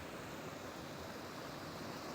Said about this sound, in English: this gushing water